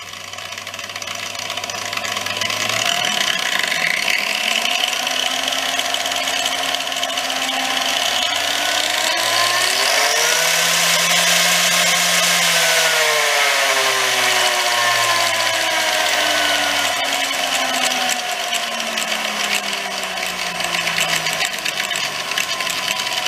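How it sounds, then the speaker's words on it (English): A small electric grinder motor whines and hums, climbing steadily in pitch through its speed range to a high rev, then gradually winding back down, loud and continuous. "We're going to take it through the range here and rev it up."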